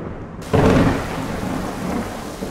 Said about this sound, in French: Entre l'orage et la pluie, on n'entend rien de ce que nous dit Stéphane.